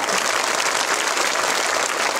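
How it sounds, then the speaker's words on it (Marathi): Loud, sustained applause from an audience, a thick unbroken wash of many hands clapping at full strength with no pauses. "सिद्धार्थ भाऊंसाठी एकदा जोरदार टाळ्या"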